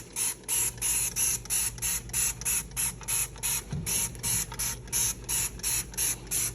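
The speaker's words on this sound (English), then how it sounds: "You can just spray this all over and inside." Cleaner spritzes onto an air fryer basket in short, evenly spaced hissing sprays, a steady rhythm of about three bursts a second, close and fairly quiet.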